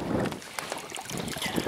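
Gusty wind buffets the microphone over open water, with choppy splashing and rushing noise rising and falling, while a boat runs on a Haswing Osapian 36 lbs electric outboard motor.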